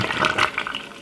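Water pours into a blender for a flat belly drink. It makes a continuous splashing, gurgling rush that carries on steadily for about a second, close and fairly loud.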